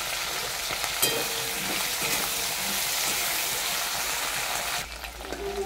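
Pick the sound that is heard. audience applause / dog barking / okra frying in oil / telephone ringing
okra frying in oil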